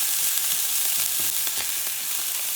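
Garlic fries in a pan as it is stirred, a steady close hiss of sizzling oil broken by light scraping and clicking from the stirring, with no voices.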